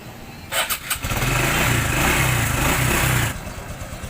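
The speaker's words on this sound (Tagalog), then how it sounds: "So try natin i-start." A Honda XRM 125Fi motorcycle, just fitted with full-wave charging wiring, cranks in a few short bursts, catches and runs at a steady loud idle for about two seconds, then cuts off abruptly.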